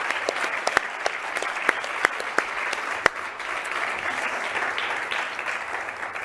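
An audience applauds steadily for Formula One team drivers at an Alpine F1 car reveal event, a dense, even wash of clapping with a few sharper claps standing out near the front.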